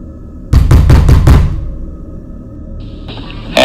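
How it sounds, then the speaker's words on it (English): Five quick, loud knocks rap on a door in a tight rhythm, followed by a quiet pause and a faint tone in a still room. "There was a knock on the door."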